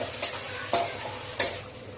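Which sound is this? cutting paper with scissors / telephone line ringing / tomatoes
tomatoes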